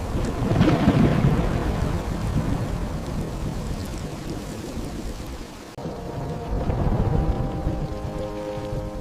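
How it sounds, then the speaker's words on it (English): Heavy rain pours steadily with dense hiss and low rumbling, a constant downpour with no voices. "The rain came hard and unforgiving."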